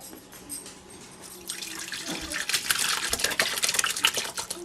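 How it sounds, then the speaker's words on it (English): Curds and whey for farmer cheese are dumped into a towel, a close burst of pouring and splattering liquid that swells and continues for a few seconds, no speech. "we're going to dump it in to my towel here and let it separate"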